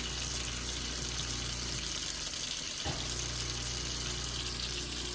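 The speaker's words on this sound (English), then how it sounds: "so we'll run the water" Water runs steadily into a kitchen sink fitted with a newly installed garbage disposal, a continuous close hiss and splash with a brief dip in the low rumble partway through.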